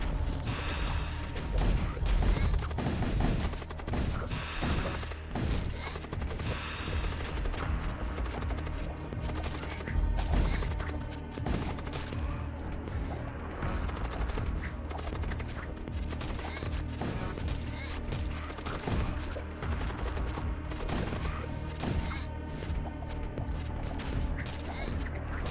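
Spaceship weapons firing in the grimdark space combat game Void War, a dense, continuous barrage of rapid shots and impacts booming without pause throughout, loud and layered.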